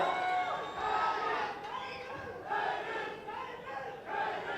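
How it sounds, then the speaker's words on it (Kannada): A crowd cheers and shouts at a public event honouring Karnataka Chief Minister Siddaramaiah, with loud overlapping voices rising in swells through the hall and no distinct applause standing out. "ಚಪ್ಪಾಳೆ ಮೂಲಕ ಸನ್ಮಾನ ಕಲಿಸೋಣ"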